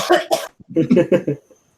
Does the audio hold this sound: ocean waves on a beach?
no